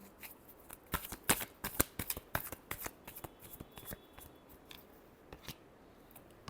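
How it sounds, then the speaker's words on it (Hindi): Tarot cards being shuffled by hand, a close series of crisp riffling flicks and snaps that thin out into a few scattered slaps. "Last shuffle."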